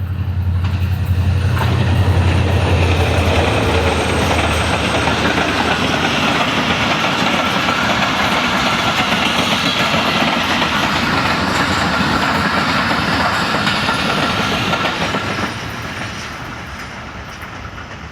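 A train near Lahore on the line toward Wazirabad and Rawalpindi, pulling away after a stop, rolls past with a loud, steady rumble and clatter that holds for most of the clip, then drops off near the end.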